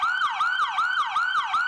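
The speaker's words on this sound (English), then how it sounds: "change the tone of their siren from one monotonous high-pitched noise to a high-low pattern" A New York City emergency vehicle siren in its current wailing tone sweeps up and down in a fast, repeating cycle, loud and continuous, with no other sounds around it.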